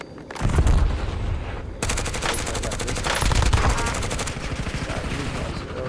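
Rapid automatic gunfire rattles from a Call of Duty match, loud bursts after a brief quiet start, with dense repeated shots continuing throughout.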